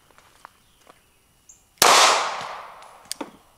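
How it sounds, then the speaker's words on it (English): A Glock 43X pistol fires a single loud, sharp shot at bowling pins outdoors, its crack ringing out and decaying over about a second, with a few faint clinks and knocks before and after. "I'm going to use my Glock 43X."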